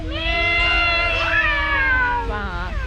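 A voice imitates a cat with one long, wavering meow that rises and falls, loud and close.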